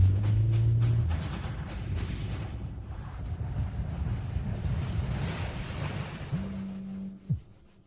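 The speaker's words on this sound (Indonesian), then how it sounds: "Ombak bergelora di mana-mana." Ocean waves surge and roar in a steady, loud wash of broadband noise with wind, building through the middle and easing off near the end, with a brief low tone and thump just before it fades.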